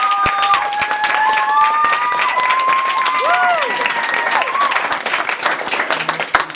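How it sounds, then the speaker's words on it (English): A large audience applauds at a Q&A store screening with the Degrassi cast in India, steady dense clapping with cheers and whistle-like shouts, loud and close throughout. "if we could give them a big round of applause for coming in"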